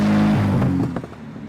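An Alfa Romeo GTV6 with its V6 engine running, a loud close engine note that holds steady and then drops in pitch and fades slightly, heard alone.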